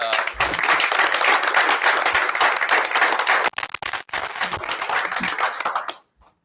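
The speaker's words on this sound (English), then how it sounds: "we'll give them a round of applause" A school board meeting audience applauds a team and its head coach, thick sustained clapping from many people for about three and a half seconds, briefly thinning, resurging, then stopping abruptly into near silence.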